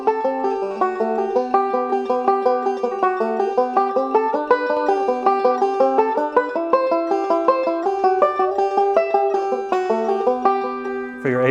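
Five-string banjo improvising on the fiddle tune Big Sciota, bright plucked notes in a quick steady rolling pattern, close and clear for the whole stretch with no voice over it.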